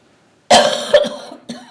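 A dry cough from a person at a community meeting: one sharp burst followed by a couple of smaller hacking coughs, close and loud, with no talk.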